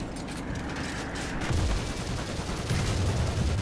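Tank gunfire at an enemy turret in War Thunder, on a snowy map: a steady rumble of combat with heavy low booms landing around 1.5 and 2.8 seconds, loud and fairly close, with no voices.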